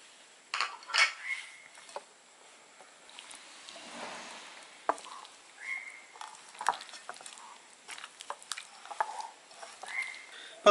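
Masala being mixed by hand into grated coconut in a bowl for Payyoli chicken, a Kerala dish, giving soft, irregular patting and wet squishing with faint clinks against the bowl, close by and quiet, with no talk.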